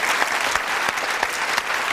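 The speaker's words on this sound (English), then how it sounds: "Give her a round of applause." Studio audience on a TV home-improvement show breaking into applause, a dense sustained wash of many hands clapping, loud and close, with no talk over it.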